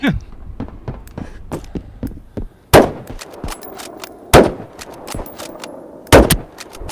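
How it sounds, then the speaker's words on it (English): Sharp gunshots in a video game, three heavy sniper rifle cracks spaced a second or two apart, with quicker, lighter shots and clicks in between. "Sounds like a sniper rifle."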